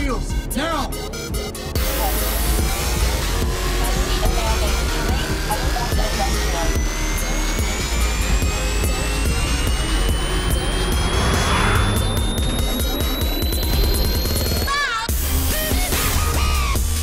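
An assault helicopter in the racing game NFS: The Run roars loudly and steadily with a rising whine over engine and gameplay noise, no talk heard.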